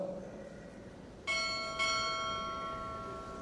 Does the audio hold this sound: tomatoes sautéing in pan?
no